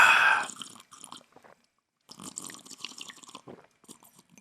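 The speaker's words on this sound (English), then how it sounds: "Slurping? Really?" Someone slurps tea up close: a wet sipping burst, then a pause and a series of soft, irregular liquid slurps and small mouth sounds, fairly quiet.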